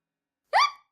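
A cartoon character gives one short, sharp hiccup, a sudden voiced chirp that trails off quickly, heard close and alone with no other sound around it.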